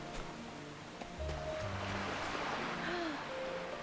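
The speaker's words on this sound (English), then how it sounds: "Oh, pretty waterfall." A waterfall in the video game Octopath Traveler rushes as a steady, full wash of water noise, with faint musical tones drifting over it.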